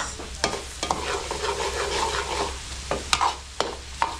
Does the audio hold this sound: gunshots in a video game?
no